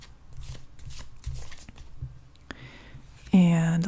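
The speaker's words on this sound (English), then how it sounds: "I'm going to give the cards a little bit of a shuffle" Tarot cards being shuffled close up in a quiet setting, with soft riffling flutters and taps of cards, then a sudden brighter tonal sound at the end.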